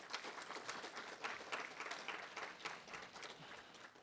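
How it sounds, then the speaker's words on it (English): An audience at a university peace initiative finale event applauds committee members, a steady patter of many hands clapping at moderate distance, continuous and fairly even throughout. "Could you give them a big round of applause?"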